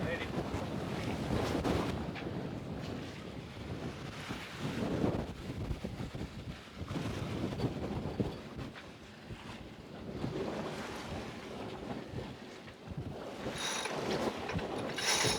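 Wind and waves buffet a Kraken 58 sailing yacht under sail on the Solent, with steady rushing wind noise on the microphone, water splashing along the hull and a few brief voices aboard.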